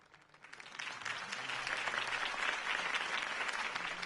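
Applause at a campaign speech swells up from quiet into a broad, sustained round of clapping from a sizable crowd, holding steady and fairly loud.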